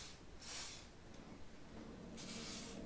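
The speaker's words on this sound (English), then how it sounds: "just spray it, a little coating on everything" Two short bursts of aerosol lubricant hiss as a coating is sprayed onto bicycle gears on a bench, the first near the start and the second near the end, with quiet room noise between.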